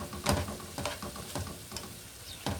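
Chicken pieces for tikka masala frying in a pan make soft, intermittent stirring and scraping clicks over a low sizzle, quiet and close, with no voices.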